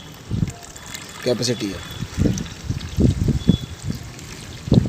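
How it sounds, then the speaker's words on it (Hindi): Water trickles and splashes into a car radiator during a home coolant flush, with uneven pouring bursts running beneath a man's speech. "अभी करते हैं पानी को ऐड जहाँ तक रेडिएटर कैप का"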